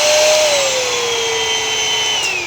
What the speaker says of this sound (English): Now for the vacuum, it's not too big, it's pretty small.